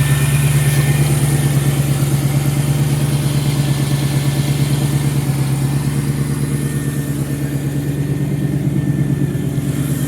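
A 1994 TVR Chimaera with its 4.6 engine idles loud and close after a cold start, a steady deep rumble with an even exhaust pulse throughout.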